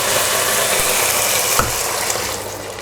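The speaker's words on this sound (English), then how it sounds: "put the wine in there. Now just boil it for about a minute or so." Wine boils in a pot with lamb shanks for a one-pot Easter dish, a steady close bubbling sizzle with a brief stirring clatter partway through, and no talking.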